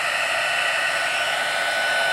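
A heat tool blows steadily over white Stampin' Up embossing powder, a continuous close whooshing hiss of hot air with no pauses and no talking.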